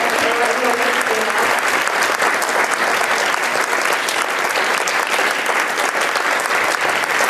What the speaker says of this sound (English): I want to give a huge, huge, huge round of applause to the amazing organizers who made this possible.